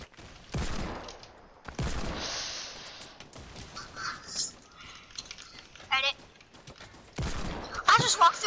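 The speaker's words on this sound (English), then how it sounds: "Somebody shooting." Bursts of gunfire in a shooter video game crack in scattered volleys, with loud sharp shots starting and stopping between quieter gaps and game sounds.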